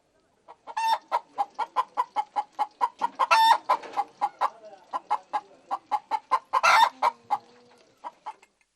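Chickens cluck in quick, rhythmic bursts while a rooster crows twice among them, close and fairly loud, at a family fowl-rearing farm in a displaced valley farming community; no one speaks.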